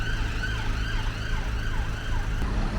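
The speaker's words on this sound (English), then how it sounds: "I can hear a siren approaching now" A wailing ambulance siren sweeps up and down steadily over constant traffic rumble, loud and near, seemingly close to an ambulance station.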